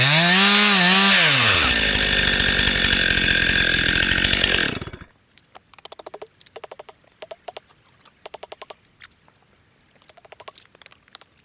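Chainsaw cutting through a tree to fell it across a road: a loud, close, steady saw drone for about five seconds with revving pitch dips, then it cuts out, leaving scattered faint clicks and cracks as the trunk gives way.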